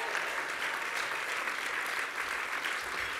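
Sustained applause from a banquet audience at a chamber of commerce awards event, an even, unbroken roar of clapping hands at moderate volume that neither builds nor fades, with no voices on top.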